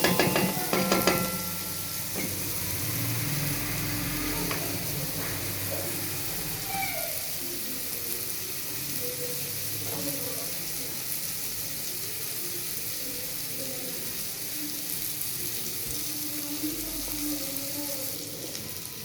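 Onions fry and sizzle in a pan as a spoon stirs them, a steady close hiss with scraping strokes and occasional clinks throughout, while someone prepares a French beans dish.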